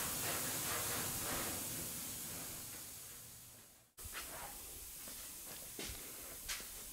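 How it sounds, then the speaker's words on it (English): A spray can lays black paint onto a distressed rat rod truck cab, a steady close hiss that fades out, then after a brief gap resumes with short spray bursts. "I spray a little bit of black and wipe over it"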